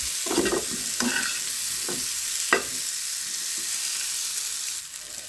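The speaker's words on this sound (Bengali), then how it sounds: "আলুটা ভাজা হয়ে গেছে," Potatoes frying in oil in a pan, being stirred with a few scraping, clattering strokes over a steady close sizzle that runs throughout.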